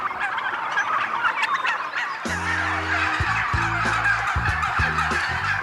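Turkeys gobble loudly in a flock on a farm, repeated bursts of gobbling starting a couple of seconds in and continuing over a steady background of bird noise.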